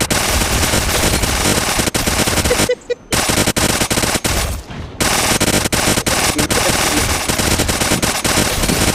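Rapid automatic gunfire in the mobile battle-royale game Apex Legends Mobile, loud and nearly continuous bursts broken by two brief pauses, with a little voice chat faintly underneath.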